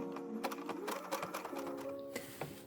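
A sewing machine stitching a row of zigzags on lingerie fabric, its needle running in a steady, fast mechanical rhythm with a humming motor, close and continuous without pause.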